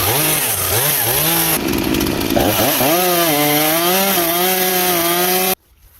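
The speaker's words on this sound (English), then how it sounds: "the old man is now making space for windows by cutting out the appropriate markings on the walls of his wooden" A chainsaw cuts window openings into the wooden log walls of a wilderness cabin, its engine whining loudly with rising and falling pitch as it bites through timber, then cutting off abruptly near the end.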